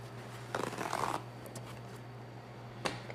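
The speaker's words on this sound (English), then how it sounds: "Then you're going to take some paper towels." Paper towels pulled and handled over a cookie sheet while making homemade dog treats, a crinkly rustling burst followed by a few softer brushes and a final short rustle, close up over a steady low hum.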